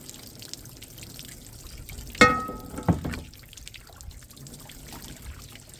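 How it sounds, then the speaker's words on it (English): Water poured and splashed over a cast iron pan being rinsed of acid and rust, two brief bursts of pouring with dripping, moderately close over quiet background. "A good rinse. Get all that acid off of there."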